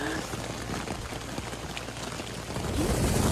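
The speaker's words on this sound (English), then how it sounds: "It's day 5 with a lot of rain and wind." Steady rain with gusting wind on the Appalachian Trail in Georgia, a dense, even hiss of falling drops holding constant and swelling slightly near the end, with no voices.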